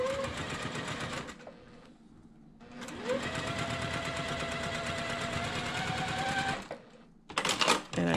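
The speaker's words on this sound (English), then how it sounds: "I'm going to go a few stitches and do a little back stitch." A sewing machine stitches quilt border fabric, running in a steady rapid chatter with a brief pause and a short back stitch, close and alone.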